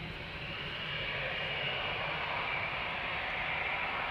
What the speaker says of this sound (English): United Airlines flight 908 7878 Dreamliner to Chicago here up next.